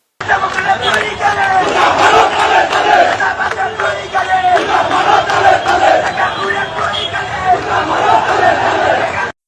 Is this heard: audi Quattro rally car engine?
no